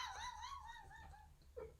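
Puppies indoors let out a short run of high, thin yips and whimpering barks, faint and close, over a low background rumble.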